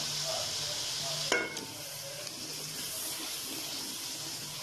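Potatoes go into hot oil in a frying pan for an aloo matar curry; a sudden crackling burst as they hit the pan settles into a steady, close sizzle with no speech.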